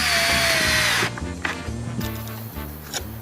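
Power drill driving a screw into a wood block on a crosscut sled, a loud high whine for about a second, then a lower, bumpy grinding as the screw seats, close up.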